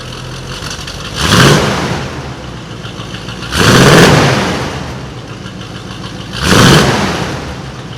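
A 1989 Chevrolet truck engine with a newly fitted exhaust idles at a steady low rumble, broken by three loud revs spaced a few seconds apart, each swelling and then falling back to idle.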